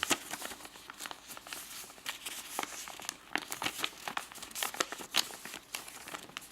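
Origami paper being folded for an owl, a continuous close crinkling and rustling with quick creases and scrapes as edges are pressed to a center line, soft and unaccompanied by voices.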